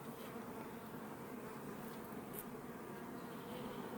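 Honey bees buzz on a hive frame, a continuous, even drone of many insects close by, soft and unbroken.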